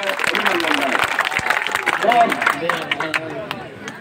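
Applause and clapping from a crowd at an Awami League political rally in Chakaria, Bangladesh, a steady dense patter lasting several seconds with crowd babble and a voice over it.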